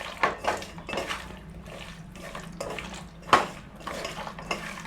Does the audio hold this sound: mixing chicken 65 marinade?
yes